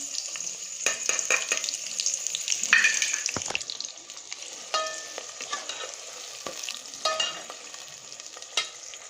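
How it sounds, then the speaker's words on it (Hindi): Finely chopped onions fry in hot ghee, giving a bright, crackling sizzle with a burst of sputtering early on and occasional utensil scrapes and clinks, close and continuous without speech. "घी गर्म हो चुका है तो मैं प्याज ऐड करूँगी"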